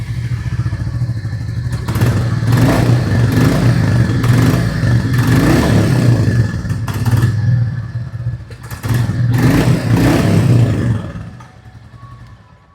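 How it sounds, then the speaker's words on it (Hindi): A Royal Enfield Classic 350 Stealth Black motorcycle engine thumps and rumbles loudly through its exhaust, revving up in two long surges before settling back to a quieter idle, with no voices. "तो गाइस अभी जस्ट आपने इस गाड़ी का एग्जॉस्ट साउंड सुना।"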